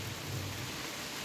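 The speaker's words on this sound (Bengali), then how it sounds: "বোঝাই যায় না বৃষ্টি হচ্ছে, শুধু সাউন্ড বোঝাই যায়" Steady rain with a low rumble of thunder underneath, a dense continuous wash of noise with no talking, heard close and fairly loud for the whole moment.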